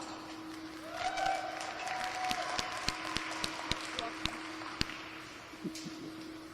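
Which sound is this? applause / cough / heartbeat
applause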